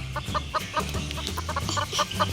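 Chickens cluck in the Roblox video game, a steady run of short repeated clucks over a low game hum, with no talk.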